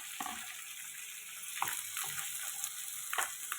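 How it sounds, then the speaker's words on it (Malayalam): Small chopped pieces of a medium tomato are frying with sautéed onions in a pan, giving a continuous bright hiss and sizzle with a few soft stirring clicks, steady and fairly close. "അതിലേക്കൊരു മീഡിയം സൈസ് തക്കാളി ചെറിയ കഷ്ണങ്ങളായി അരിഞ്ഞത് ഇട്ട് കൊടുക്കാം"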